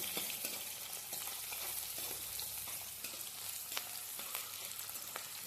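Onions frying in a pan for mutton pulusu make a faint, even sizzle with small crackling pops throughout and no voices.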